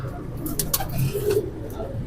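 Pigeons cooing in a loft, a grey slate-coloured bird among purchased birds, a few soft low coos near the mic with people talking over them.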